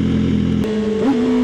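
A Subaru BRZ engine drones steadily while driving, a close, sustained hum whose pitch dips and shifts slightly as the car changes speed.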